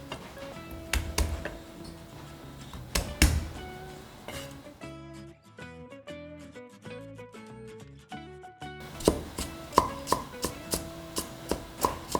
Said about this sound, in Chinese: 姜米给它剁蓉